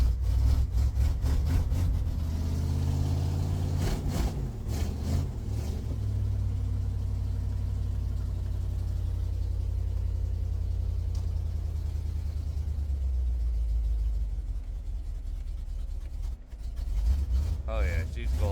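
A Massey Ferguson TE20 tractor engine, started for the first time in years, runs cold with a loud low rumble and uneven revving that swells and falls, the pitch shifting as the throttle changes, heard up close.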